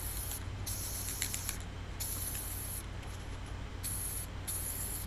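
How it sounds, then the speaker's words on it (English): Clear lacquer sprayed onto a Les Paul guitar body in bursts of close, loud hissing, several separate passes with short pauses between them, over a steady low hum. "And then we have some clear lacquer we use to start sealing it up."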